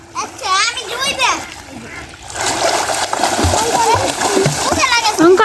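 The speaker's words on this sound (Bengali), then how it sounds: "লিখন একটু সাঁতার কাটা দেখাও তো" Children splash while swimming in water, rough sloshing and spattering bursts up close, with children's voices talking over the splashing.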